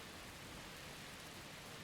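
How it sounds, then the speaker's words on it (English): Steady night rain in Zelda: Breath of the Wild, a soft, even hiss of falling drops throughout with no other sounds. "Well, it's rainy and it's in the night"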